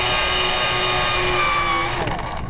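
A power drill bores a hole through the casing of a colourmusic electronic toy being circuit bent, a steady close whine with a constant pitch that runs about two seconds before shifting as the bit breaks through.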